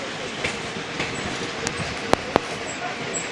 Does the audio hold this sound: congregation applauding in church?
no